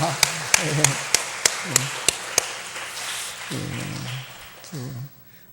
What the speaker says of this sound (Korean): 미리 박수 한번 치겠습니다.